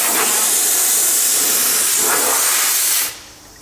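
Air compressor pushing air into a semi truck tire after a plug repair: a loud, steady hiss of rushing air that runs for about three seconds, then cuts off abruptly into a quieter background.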